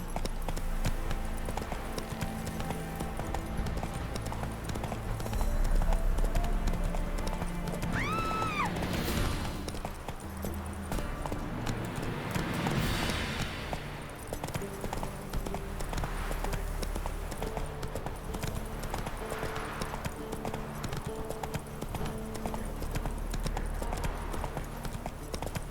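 Roach, Geralt's horse in The Witcher 3, gallops in a long steady run of rhythmic hoofbeats, heard under continuous game music with occasional crashes and brief voices.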